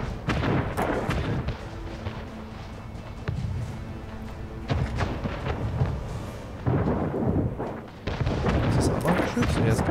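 Gunfire in the Anno 1800 strategy game, repeated heavy cracks and booming shots in bursts over several seconds, with low rumbling between them.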